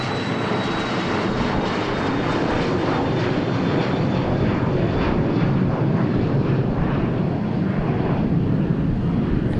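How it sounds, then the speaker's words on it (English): A NetJets Embraer Phenom business jet takes off from Dallas Love Field, heard as a loud, continuous roar of engine noise that holds steady throughout with no talking. "NetJets Phenom taking off."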